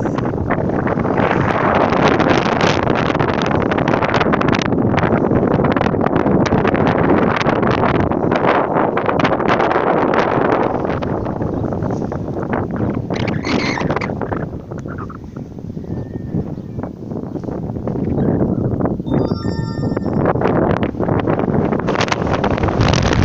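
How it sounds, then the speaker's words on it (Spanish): A strong spring wind sweeps across an apple orchard in Chihuahua, Mexico, buffeting the microphone with loud roaring gusts that ease briefly midway before building again. "Hace bastante viento en época de primavera"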